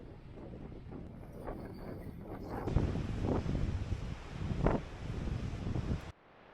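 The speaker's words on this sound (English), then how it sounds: "it is windy and I can do nothing about it" Strong wind on the Danish west coast buffets the microphone in a steady low roar, with louder gusts surging now and then, before it cuts off abruptly at the end.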